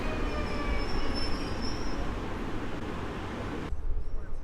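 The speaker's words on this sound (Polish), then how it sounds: "a tu mamy pociąg do stacji Żywiec, czyli Intercity Pilecki z Warszawy Wschodniej, który wjeżdża punktualnie" Intercity Pilecki passenger train from Warszawa Wschodnia pulling into Sosnowiec Główny station, a steady loud rumble of rolling wheels with faint high squeals, ending in a sudden drop to quieter rumble.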